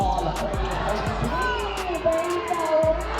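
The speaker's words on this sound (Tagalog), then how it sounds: "hiyawan ng buong crowd sa ginawa ni Andy" A crowd at an outdoor street-league basketball game in the Philippines roars and cheers continuously, with loud babble and whoops layered over sharp intermittent knocks and thuds from the court.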